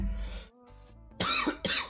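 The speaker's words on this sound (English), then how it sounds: "Sorry for that cough." A person coughs twice, two sharp, fairly close bursts in quick succession after a moment of soft indistinct sound.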